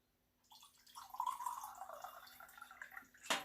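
Water poured from a tap into a regular drinking glass, a short quiet trickling stream that builds and tapers over a few seconds, ending with a brief clink, no talk.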